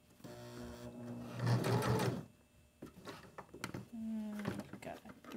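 A sewing machine stitches straight across a fabric soap holder with the needle started down, running in two short, steady whirring bursts separated by a pause with light handling noise; a person talks nearby.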